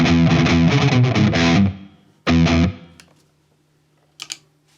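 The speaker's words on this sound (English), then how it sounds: "Heavy distortion." An electric guitar runs through the heavy distortion preset on a Valeton GP-5 amp modeller, playing loud, crunchy chugging chords in a short burst, then one more stab that rings out to near silence, followed by faint clicks.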